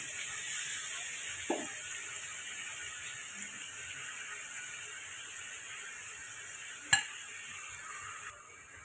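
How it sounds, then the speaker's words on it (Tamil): Chicken stirred and fried in oil with fennel seeds gives a steady, even hiss of frying, with two isolated utensil knocks against the pan. "சிக்கனை நம்ம கலந்து விட்டுக்கலாங்க"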